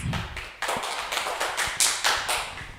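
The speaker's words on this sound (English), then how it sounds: "Give applause." Clapping at an English competition event, a short run of separate distinct claps at an uneven rhythm, close and fairly loud rather than a full crowd.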